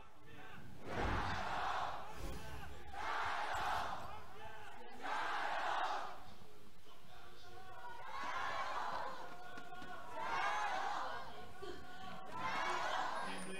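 An arena crowd at a League of Legends esports match in Beijing chants and cheers in rhythmic surging waves, rising and falling about every two seconds, loud and reverberant.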